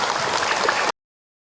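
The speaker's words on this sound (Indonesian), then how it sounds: "Tepuk tangan buat beliau" An audience at a religious talk bursts into brief, dense clapping that cuts off abruptly after less than a second.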